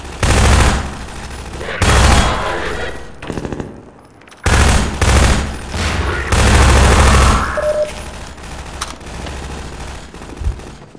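Rapid automatic gunfire in Half-Life 2, loud bursts repeating in long stretches with short pauses between, punctuated by a few sharper single shots and a quieter tail.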